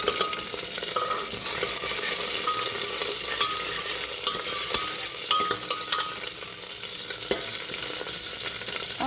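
Cloves and clove leaves fry in a pan over a modest flame, giving a steady sizzle broken by light scraping and clinking from stirring.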